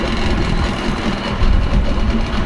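A new dinghy outboard engine idles while being run in, a steady low, even hum with no speech and no change in pace, close by and continuous.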